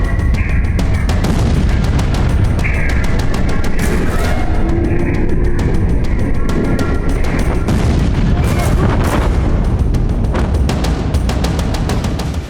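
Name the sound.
huge explosion in Lebanon captured on cameras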